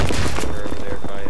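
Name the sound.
grenades being fired in the video game Battlefield 3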